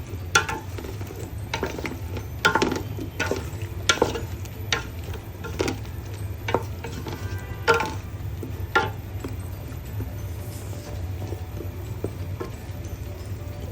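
Potatoes are stirred with biryani masala in a pan, a soft sizzle under irregular clacks and scrapes of a spoon against the pan that come in uneven bursts, fairly close, with no talking.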